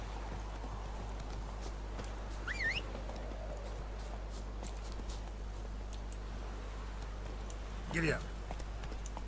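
Horse galloping in The Witcher 3, with steady hoofbeats running throughout under the background sound and brief voice calls layered over the gallop.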